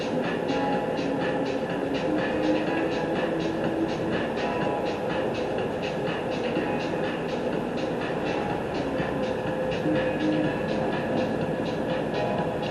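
The Las Vegas Monorail runs over concrete slabs, a steady loud rolling rumble with regular faint clicks as the car crosses the joints, heard from inside with no talking.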